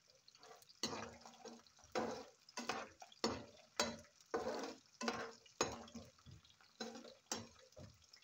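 Peeled garlic frying in oil, with repeated bursts of sizzling about once a second as the cloves are stirred, close and fairly quiet with no talking.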